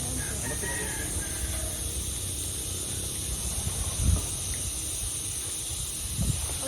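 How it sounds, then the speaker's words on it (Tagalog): Chickens cluck and fuss in a noisy outdoor yard, a steady background hum underneath with a couple of brief louder bumps. "yung manok eh"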